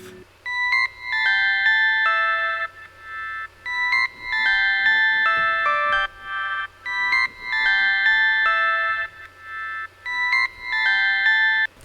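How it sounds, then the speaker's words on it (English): Cute, sparkly layered synth melodies chime in bright bell-like phrases, repeating in short bursts with brief gaps between them, clear and upfront. "I layered the same kawaii synth from the first drop with a sparkled kawaii synth"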